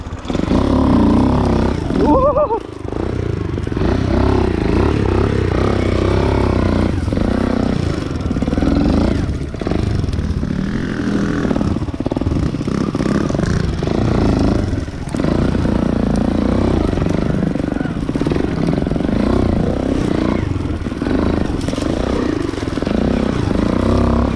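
A green Alphacross motorcycle rides off-road through pits and potholes, its engine loud and continuous with revving surges and rattling clatter from the bumpy ground.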